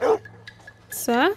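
A bloodhound in Red Dead Redemption 2 gives a short bark-like yelp, then a longer whining, whimpering cry. Someone says a brief word just before it.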